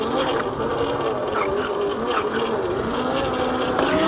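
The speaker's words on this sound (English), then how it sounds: "I'm a big fan of the mid-drive motor. It might be a little bit louder than the hub motors" The mid-drive motor of a Yozma IN-10 electric dirt bike runs with a steady, buzzing whine, close and continuous, with a faint rising pitch and some background rumble.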